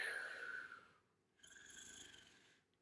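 A voice imitating snoring during a children's bedtime storytime: two breathy, rasping pretend snores separated by a short pause, fairly soft and with no other talk.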